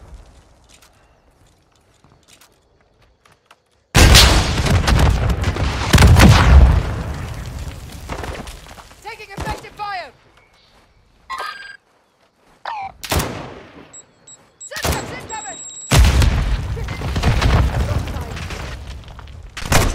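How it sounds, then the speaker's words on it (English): Gunfire and explosions from Modern Warfare 2 played on PS4, arriving in loud bursts of heavy blasts and rattling shots separated by near-silent gaps, with mechanical clatter in between. "Taking effective fire."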